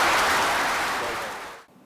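A conference audience at a sport safeguarding event gives a round of applause, a dense, even patter of clapping that fades out over under two seconds.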